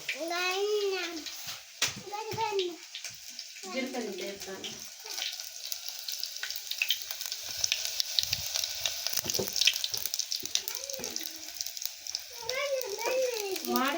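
Hot oil crackles and spatters steadily as tempering spices splutter for a bitter gourd curry, while a child and an adult talk over the sizzling.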